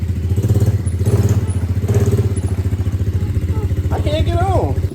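An ATV four-wheeler engine runs with a steady pulsing putter close by while people talk over it throughout.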